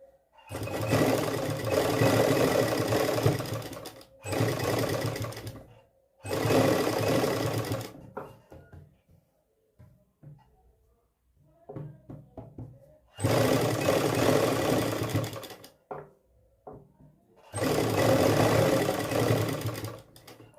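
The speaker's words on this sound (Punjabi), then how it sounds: "ਪੈਚ ਇੱਥੇ ਇੱਥੇ ਆਪਾਂ ਸਲਾਈ ਲਾ ਲਾਂਗੇ" A sewing machine stitches a V-shaped neck patch onto a shirt in several loud, steady bursts of rapid whirring. Short quiet gaps with faint handling noises separate the bursts.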